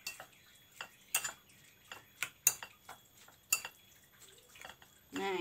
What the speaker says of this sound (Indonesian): sekarang diaduk-aduk. Aku aduk yang pedas dulu ya.